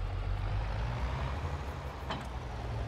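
A tractor pulling a trailer in Farming Simulator reverses with a steady low engine drone, close and even throughout, with a faint high whine rising briefly near the end.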